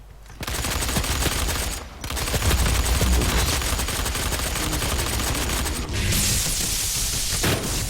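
A new weapon fires in DOOM multiplayer: dense, loud, continuous automatic gunfire for several seconds, broken by two short pauses, with a sharper burst near the end and no talk over it.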